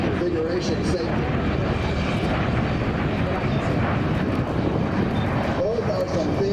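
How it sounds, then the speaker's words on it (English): A Marine MV-22 Osprey tiltrotor makes a high-speed low pass at about 500 feet and 260 knots, a loud steady roar of engines and rotors filling the scene while someone speaks over it. "High speed, low pass right now, going down at 500 feet AGL, about 260 knots"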